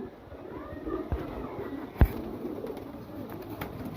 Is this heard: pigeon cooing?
yes